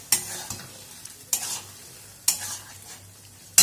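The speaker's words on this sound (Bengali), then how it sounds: "তেলের মধ্যে ভালো করে, মানে মশলার মধ্যে ভালো করে নেড়ে নেড়ে ড্রাই করতে হবে।" A spatula stirs Bombay duck fish frying in spiced oil, four sharp scraping strokes at irregular intervals over a quiet background sizzle.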